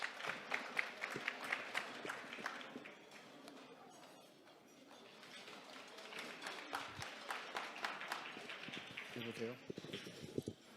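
A crowd claps steadily, the applause swelling, dipping, then building again over a noisy room, with voices mixed in.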